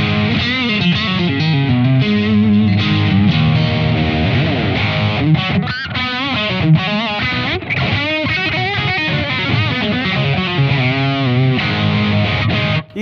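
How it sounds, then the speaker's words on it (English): Crunchy overdriven electric guitar through the Department 10 dual drive, a two-channel Blackstar tube overdrive pedal, playing loud sustained chords and lead lines without pause. "This is the Department 10 dual drive."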